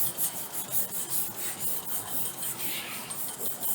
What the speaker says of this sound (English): So again, sand down the side.